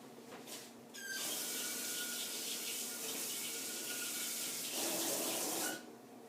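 Water running from a tap while makeup brushes are being cleaned, a loud steady hiss of flow starting after about a second and lasting about five seconds before shutting off.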